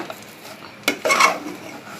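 Roasted chickpeas and jaggery are mixed in a pan, heard as a couple of close scraping and clinking spoon strokes against the metal in a short burst.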